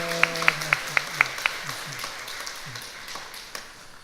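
A church congregation gives a welcoming round of applause during a Sunday service, heard as a run of crisp, regular claps that thins out, with a voice speaking alongside.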